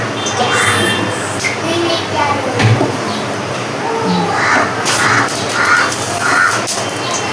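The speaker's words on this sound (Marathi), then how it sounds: "कावळ्यांचा आवाज येतोय." Crows caw outdoors near a home, a few harsh calls at middle distance mixed into steady background noise, with children and adults talking nearby.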